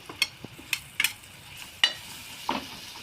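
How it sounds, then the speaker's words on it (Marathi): Red chili powder stirred into hot oil for paneer bhurji gives faint sizzling with a few sharp spatula scrapes and taps against the pan, spaced irregularly and quiet overall. "लाल तिखट मसाला तेलामध्ये चांगल्यापैकी परतून घ्यायचा"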